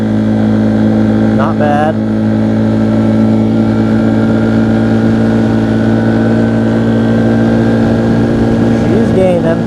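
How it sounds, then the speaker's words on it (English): A 2015 Arctic Cat 500 EFI 4x4 ATV engine held at full throttle while climbing uphill, a loud, steady mid-pitched drone close up, with someone speaking briefly over it. "This is full throttle here. This is uphill."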